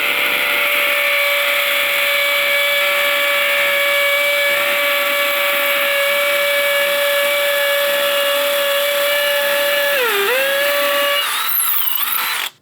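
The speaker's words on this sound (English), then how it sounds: "see if we could actually drill a hole with the concrete bit in the roto hammer drill" A DeWalt roto hammer drill with a new DeWalt Elite series concrete bit whines steadily at high pitch as it bores into concrete, the tone dipping briefly under load before it winds down and stops.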